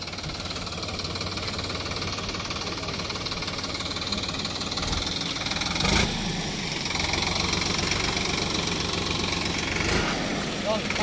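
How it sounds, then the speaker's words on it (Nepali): A tractor engine labours as it tries to pull a vehicle stuck in a river, producing a loud, continuous, knocking chug that swells slightly partway through while people talk nearby. "ट्र्याक्टरले अब हेरौँ तान्छ तान्दैन हेरौँ अब दम ट्र्याक्टरको कति चाहिँ रहेछ"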